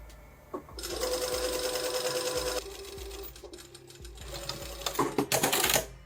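A sewing machine runs flatlock stitching along a stretchy shirt seam, its needle chattering fast and steady up close, pausing briefly, then resuming with a few quick bursts.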